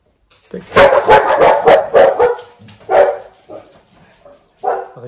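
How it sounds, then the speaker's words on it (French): Two dogs barking loudly and close by in a series of rapid, overlapping barks, then a few scattered yips and a final bark after a brief lull. "Rien de grave, c'est mes chiens."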